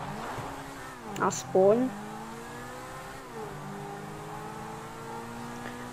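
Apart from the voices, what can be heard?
car engine accelerating in video game GTA V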